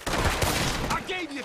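Gunfire in the video game Red Dead Redemption 2 comes as a loud, dense burst of rapid shots over a brief moment, filling the whole sound with a rough, crackling roar.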